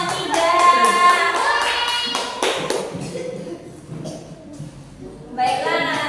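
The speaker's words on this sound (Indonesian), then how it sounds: "Kita kasih tepuk tangan untuk kelompok 3." A classroom group receives applause, with a short burst of hand clapping from several people and a teacher's voice talking over it.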